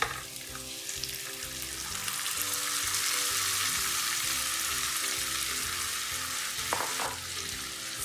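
Homemade tomato puree is stirred into an onion, ginger and garlic masala frying over a low flame, giving a loud, steady sizzle with faint scraping from the stirring and no talking.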